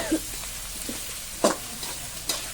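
Curry leaves crackle in hot oil for tempering, a short burst of close, even sizzling punctuated by a couple of sharp spatters and utensil clicks.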